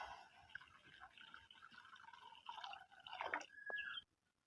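Water is poured into a kadai, a faint splashing pour that builds slightly and then stops abruptly after about four seconds.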